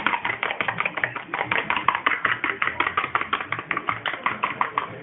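Sugar being beaten into a batter in a bowl, a fast, steady run of close, loud tapping strokes that repeat several times a second without pause.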